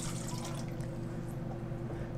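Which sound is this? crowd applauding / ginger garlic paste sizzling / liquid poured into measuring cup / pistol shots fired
liquid poured into measuring cup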